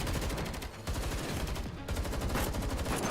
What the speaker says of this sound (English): More than a dozen streams of gunfire tear through the icy air